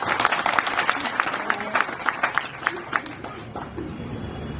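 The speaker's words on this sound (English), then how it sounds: "Let's give him a clap." A crowd claps at a rally gathering, loud distinct hand claps at first that thin out and fade toward the end, with murmuring voices underneath.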